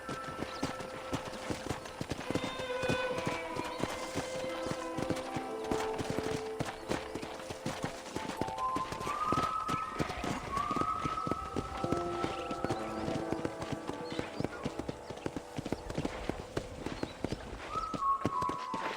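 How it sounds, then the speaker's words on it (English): Rhythmic horse hooves clip-clop steadily on hard ground for a long stretch in the video game Red Dead Redemption, with occasional whinnies and game music tones layered behind. "let's see if you can still ride a horse"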